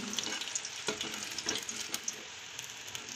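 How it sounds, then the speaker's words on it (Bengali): Pakoras frying in a pan of oil give off a continuous fine crackle and popping sizzle, steady and rather faint, with no one speaking. "তো পাকোড়াগুলোকে ভেজে রেডি করে নিলাম, ভাজা হয়ে গেছে।"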